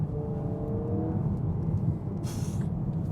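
A Honda Prelude hybrid runs on a race circuit in S mode, its engine humming steadily before a brief rushing burst as it downshifts, heard from inside the car.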